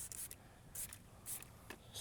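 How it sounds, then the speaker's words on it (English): Hypergloss product being sprayed onto a car's wheel arch in short, quiet bursts, about four hissing spritzes spaced roughly half a second apart. "spray some of that on there"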